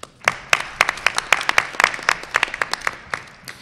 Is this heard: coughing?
no